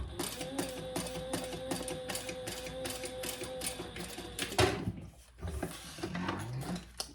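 Sewing machine top stitching around a small fabric wristlet, a rapid steady mechanical stitching rhythm for several seconds, then a short pause and handling noises before the stitching resumes, fairly quiet and close.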